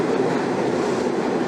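A New York subway train rumbles steadily and loudly, with a constant roar of wheels and carriage noise and no voices over it.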